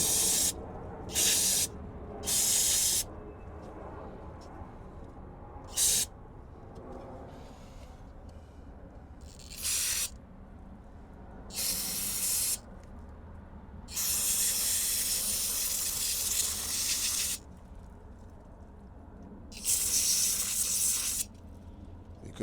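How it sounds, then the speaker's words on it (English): Brake cleaner sprayed onto fuel tank parts of a Thermo King reefer unit during servicing, heard as repeated hissing aerosol bursts of varying length, some short and some held for several seconds, close and alone. "So I've got some brake cleaner right here, and I'm just gonna give it a nice clean."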